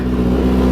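Loud, steady idle of a Kawasaki ZX-10R sportbike engine after a cold start, heard close with an even low throb and no other sounds.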